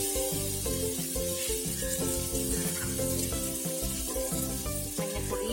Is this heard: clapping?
no